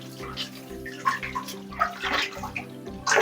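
Tap water runs and splashes while dishes are washed at a home sink, a continuous close gush with shifting splashes, accompanied by a low rhythmic background pulse and no speech.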